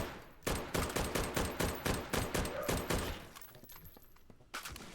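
Video game guns fire in rapid, evenly spaced bursts, a sharp string of loud shots lasting several seconds before thinning out, with a few scattered shots toward the end.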